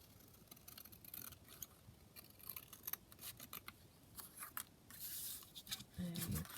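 Scissors snip through paper in short, quiet, irregular cuts with soft rustling between them, while pages for a junk journal are trimmed; the cutting is faint and close, with no one talking.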